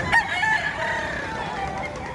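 A rooster crows once in Padre Garcia, Batangas, close and loud, its call rising and holding briefly against a low murmur of background noise.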